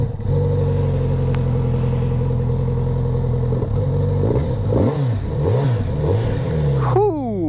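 A Kawasaki Z900RS motorcycle with an Akrapovic exhaust fires up and settles into a steady, loud idle, then revs rise and fall in several swells before a final sharp blip.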